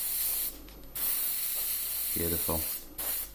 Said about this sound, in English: the airbrush is spraying this out just fine